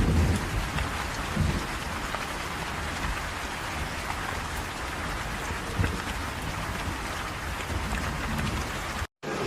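Heavy rain pours steadily on surfaces during a storm in Wuhan, with low rumbles of thunder underneath, a dense, loud wash that continues without a break until a brief cut near the end.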